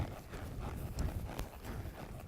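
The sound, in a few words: horse hooves while loping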